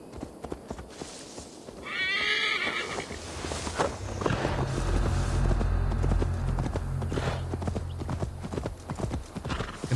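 Horse hooves clip-clopping in the video game Assassin's Creed Valhalla, a steady rhythmic gait joined by a whinny, with game music and ambience underneath.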